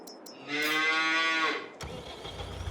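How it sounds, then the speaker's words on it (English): A cow moos loudly at the animal dealer in Farming Simulator 22, one long sustained call, followed by a low engine-like rumble in the background. "Well, thank you very much, Sir Moo Cow"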